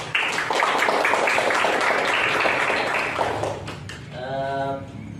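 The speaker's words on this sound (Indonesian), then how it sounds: "Oke, kita beri aplaus." A classroom of students applauds together in a sustained burst of clapping that fades out near the end, followed by a brief voice.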